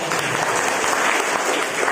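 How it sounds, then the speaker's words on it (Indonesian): Church congregation applauding during a family worship service, dense steady clapping that fills the whole stretch, loud and close with no pauses. "Tepuk tangan dulu."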